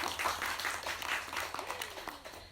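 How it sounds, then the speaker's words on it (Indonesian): Applause from an audience at a university alumni gathering, a steady wash of many hands clapping at moderate volume for a couple of seconds, with faint voices mixed in. "Tepuk tangan dulu dong."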